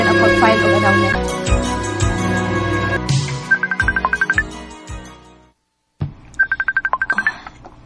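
A telephone rings for an incoming call in a Cebuano radio drama, in two bursts of rapid trilling rings that cut in after a stretch of music and a short silence.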